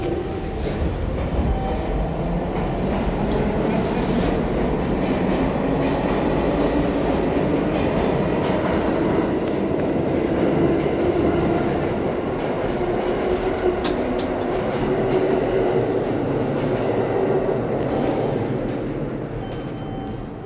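NYC subway A train of R179 cars running on the 8th Avenue line, a loud continuous rumble and roar of wheels on rail with rattling cars and faint squeals throughout.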